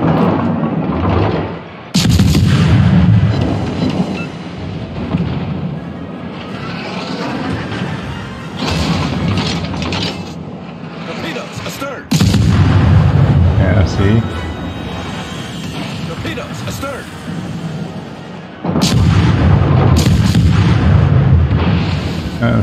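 Warship guns boom in the World of Warships game, a USA tier II Chester cruiser firing loud, heavy salvos in three distinct bursts with rumbling between them, while a player talks over the action.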